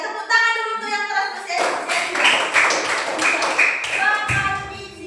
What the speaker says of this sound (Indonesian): Tepuk tangan dulu tuh yang keras